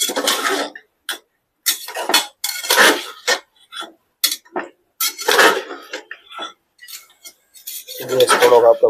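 Whole brinjals and small potatoes being mixed in an oiled pan, with repeated clinking and scraping of a metal spoon against the pan in short irregular bursts, close and fairly loud.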